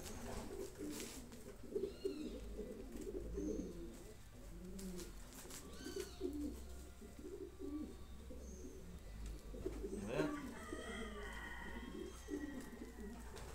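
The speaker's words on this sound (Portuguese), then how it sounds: "É um pombo grande, bem grande mesmo." A large bronze-colored racing pigeon, banded as hatched in 2011, coos softly in repeated low, throaty phrases, faint against a quiet background with a few higher bird chirps.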